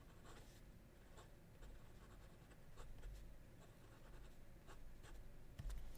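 A Jinhao 100 Mini fountain pen nib scratches across paper in a quiet room, soft continuous rasping strokes with brief ticks as the pen lifts and lands.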